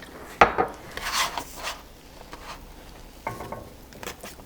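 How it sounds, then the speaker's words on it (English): A tofu crepe is flipped in a pan on low heat with a soy sauce glaze: a sharp scrape and clack of the spatula, a soft sizzle and rustle, then another light tap later. "Flip the crepe over."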